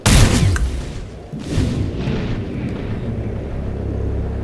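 In XCOM: Chimera Squad, a shotgun fires one loud, close blast. A second heavy boom follows about a second later, then a low rumbling tail that fades slowly.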